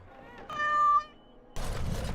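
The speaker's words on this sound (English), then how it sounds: "Little kitty there makes me want to vomit." A cat in the video game Dragon Age: Origins gives a single clear, close meow lasting about half a second, after which a different noise takes over.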